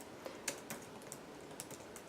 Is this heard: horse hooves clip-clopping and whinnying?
no